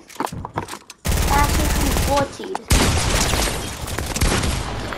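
Shotgun and machine gun fire in a Fortnite match: scattered shots, then a loud sustained burst of rapid automatic fire, a brief pause and another heavy stretch of shooting, with a voice speaking over it.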